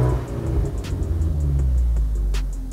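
Ford Mustang with the 2.3-litre EcoBoost engine revving in Race Track mode, a deep, steady, loud engine roar with a low rumble and no distinct backfire pops.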